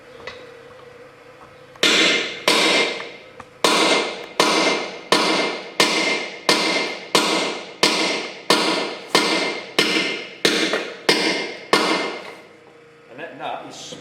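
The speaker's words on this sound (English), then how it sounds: "So I'm going to go and grab a chisel and we'll see if it's going to work" Hammer blows strike a chisel to split a seized nut on a Ferguson TEA20 tractor, about twelve sharp metallic hits in a steady rhythm, close and loud, then a short pause and faint handling noise.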